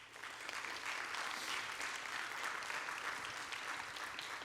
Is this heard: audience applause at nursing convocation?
yes